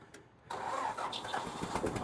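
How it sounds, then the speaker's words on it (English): A tractor engine turns over and catches in a workshop, a sudden start that settles into a steady, close mechanical running sound. "I get this tractor out of here."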